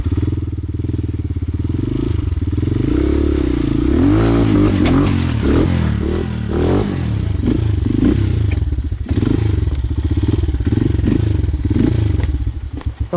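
Close, rough motorcycle engine rumbling and revving unevenly while riding an unpaved route, with clattering knocks and bumps over rough ground throughout; the engine has been struck on one side.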